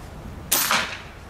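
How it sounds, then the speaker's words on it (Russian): A single sharp shot from an FX Streamline air rifle, fired into a chronograph, cracks out suddenly, followed by a short hissing decay against quiet outdoor background. "А сейчас мы ее возьмем и выстрелим в хронограф."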